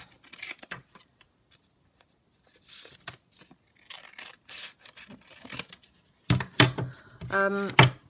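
Scissors cut down paper pages for a handmade junk journal, giving sparse close snips and rustles followed by a louder burst of cutting and paper handling near the end.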